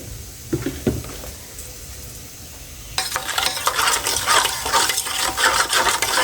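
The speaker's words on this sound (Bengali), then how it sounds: "গরম জলটা দিয়ে নেড়ে ছেড়ে পুরোটা মিশিয়ে নিলাম" Hot water poured into a batter of ground coriander, cumin and salt for a rohu fish curry, then stirred: soft scrapes and splashes give way to a louder, continuous wet sizzling and stirring from about halfway.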